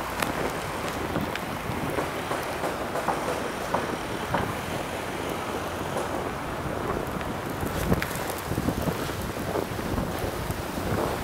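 Strong wind roaring during a Montreal snowstorm, a continuous loud broadband rush buffeting the microphone outdoors, steady throughout with no talking.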